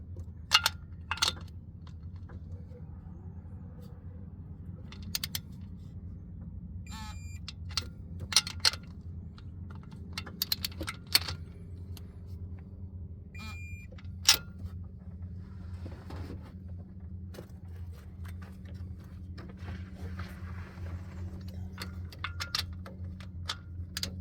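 A torque wrench clicks on the fuel injection pump bolts of a Humvee HMMWV, sharp isolated clicks spaced irregularly over a steady low hum, close and fairly quiet.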